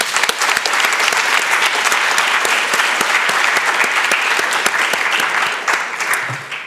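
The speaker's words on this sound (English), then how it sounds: "A big applause for all of them." Conference audience at a crime-and-fear-in-public-places event breaking into sustained applause, a loud, dense crackle of many hands clapping that holds steady for several seconds before thinning slightly at the end.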